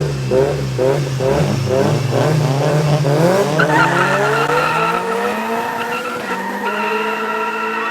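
A front-wheel-drive street race car launches at a street racing event, its engine revving hard as the tires squeal loudly and continuously, the pitch climbing through the gears and the car staying close throughout.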